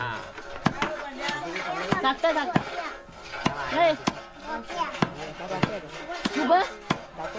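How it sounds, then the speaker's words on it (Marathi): Chicken is chopped into small pieces with sharp, irregular knife or cleaver strikes on a board, close and distinct, while people talk in the background throughout. "इकडे परत चिकन बारीक करतायत."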